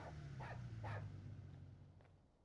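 A dog barks in PowerWash Simulator 2, a couple of short, mid-level yaps over a steady low game hum, then fading.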